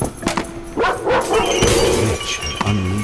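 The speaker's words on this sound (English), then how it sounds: "The princess heard a fearsome growl." A hellhound in Layers of Fear: Inheritance growls loudly and close, a rough snarling rumble interrupted by sharp crashing and shattering noises.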